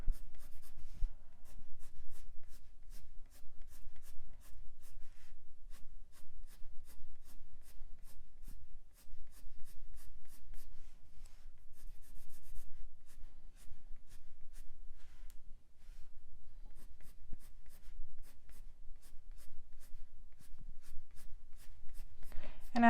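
Prismacolor colored pencils scratch and rub steadily across paper in short repeated strokes, blending cream highlights into hair, close and quiet with no voices.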